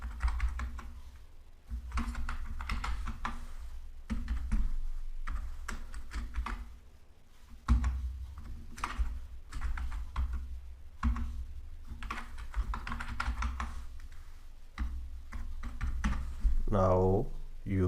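Someone types payment details on a computer keyboard in quick bursts of clicking keystrokes separated by short pauses, with a voice talking over much of it.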